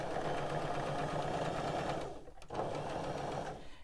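A sewing machine stitches a seam with a 1 centimeter allowance toward a point, running at a fast, steady mechanical whir with a brief pause before resuming.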